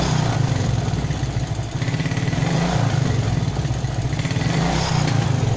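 A motorcycle engine with a misfiring carburetor problem runs loud and close after a carburetor adjustment, holding a steady, throbbing rev with a slight dip midway, and no voices over it.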